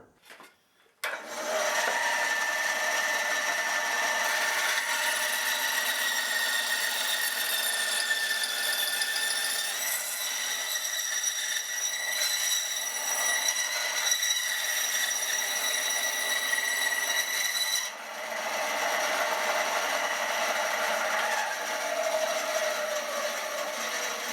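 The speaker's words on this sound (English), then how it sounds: "We'll get that to the bandsaw, get that trimmed off" A bandsaw cuts through a wooden guitar neck tenon for a Les Paul Junior build, a loud, continuous whining hum with a brief dip partway through before running on.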